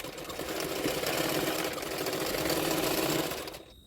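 Electric sewing machine stitching the lining fabric of a double katori blouse, a steady mechanical whir running continuously before trailing off at the end, with no talking.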